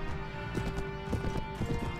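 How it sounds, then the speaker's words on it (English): Horse hooves clip-clop at a steady trotting rhythm while riding in the Mount & Blade video game, a close, continuous patter of hoofbeats under a sustained game ambience tone. "Riding on my little horse."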